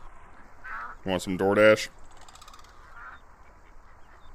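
Virtual ducks in a VR Chat bird sanctuary give a quick cluster of loud, close quacks in the middle, with a person talking quietly before and around them.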